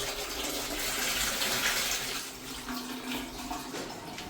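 Water running from a household tap in a home kitchen or bathroom, a steady close hiss and splash that holds constant for the whole stretch with no talk over it.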